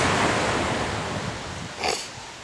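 Waves wash onto a beach on the Turkish Riviera in February, a steady windy surf roar with one brief louder splash near the end, and no voices.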